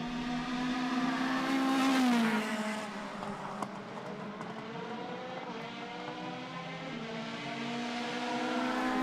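A race car on a circuit during a classic car race meeting approaches and passes, its engine note rising to a loud peak and then falling away. A fainter engine drone continues afterwards, with a brief sharp click partway through.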